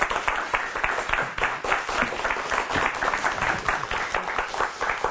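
An audience claps steadily at a talk on leadership, a dense patter of many hands that stays loud and even from start to finish.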